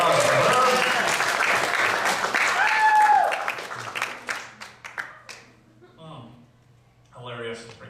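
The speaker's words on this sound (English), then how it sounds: "Round of applause for her." Comedy club audience at Harbor Comedy Club clapping, a dense burst of applause that thins out and fades into scattered claps, with voices and laughter breaking through near the end.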